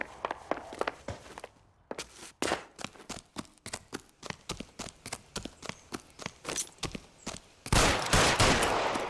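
Gunshots ring out in L.A. Noire Remastered as a long series of sharp, evenly spaced cracks, ending in a louder, denser burst.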